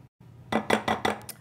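A little spatula scrapes pastry cream into a bowl in four quick, rhythmic strokes, each a short bright clink against the bowl, close and alone.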